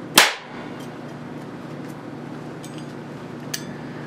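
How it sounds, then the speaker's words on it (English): A capacitor bank discharges through a 10-turn coil to crush an aluminum can: one sharp, loud crack at the start, followed by a low steady hum and a small click later on. "Let's start with the 10-turn coil for can crushing. Charging, charge, and fire."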